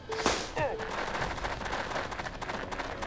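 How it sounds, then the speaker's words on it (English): A frantic burst of gunfire crackles through a Jagged Alliance 2 firefight, loud rapid shots in a dense volley lasting most of the moment, with a brief sharp sweep early on. "Frantic burst of fire."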